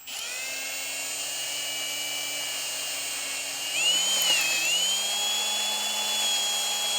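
A steady high-pitched drill whine runs throughout as the bit cuts metal, its pitch dipping and shifting midway as the bit bites in, loud and close with no talking.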